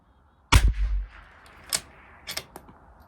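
A single sharp .22 rimfire rifle shot with CCI Standard Velocity ammunition, fired at a 100-yard range, loud and close, followed by a brief fading echo and a few faint later clicks.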